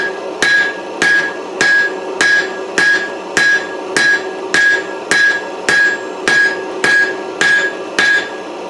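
A blacksmith's hammer strikes a steel round punch on an anvil while forging a taper, ringing out in about fifteen loud, evenly spaced blows with a bright metallic ring after each hit.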